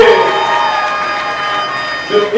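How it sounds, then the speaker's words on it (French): A crowd cheers and applauds loudly and steadily at a public gathering honouring a dignitary, a dense wash of voices and clapping with a brief swell near the end. "Allons-y, applaudissons très fortement."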